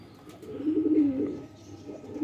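Qasuri kamagar pigeons coo close by, a soft low rolling coo swelling then fading, followed by the start of another.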